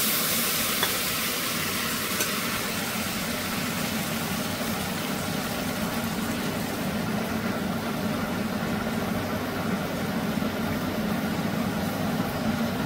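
Broken wheat (dalia) frying in a pan while being stirred, a steady close hiss and sizzle running evenly throughout with no pauses.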